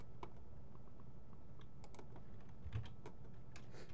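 Quick, light key clicks from someone typing on a computer keyboard, irregular and fairly faint over a low background hum, with no talk.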